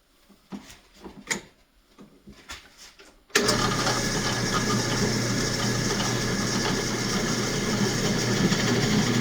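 A power drill bores holes in scrap wood for a candleholder. A few soft clicks and handling knocks come first, then the drill cuts in abruptly with a loud, steady, dense whirring drone that runs unbroken to the end.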